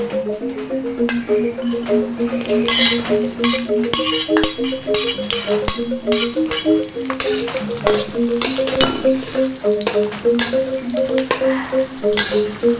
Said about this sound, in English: First, I'm going to cook the bitter beans just for half cooked, not until well done.